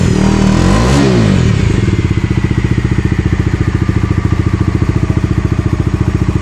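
A 2023 Bajaj Dominar 250cc motorcycle's exhaust revs up once, then settles into a steady, loud, close-up throb with a fast regular firing pulse and no talk over it.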